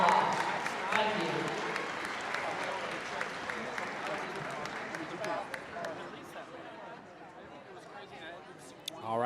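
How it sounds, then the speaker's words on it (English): Crowd applause at a high school senior night honoring girls' tennis students and their parents, sustained clapping from a gym audience with chatter mixed in, fading gradually over several seconds. "Let's give these students and their parents a fine round of applause."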